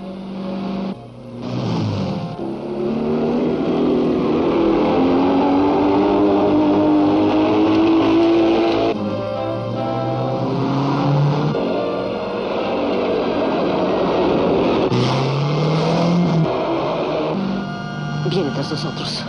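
A 1940s car speeding away from a police stop, its engine revving and surging in waves under tense dialogue between people on board.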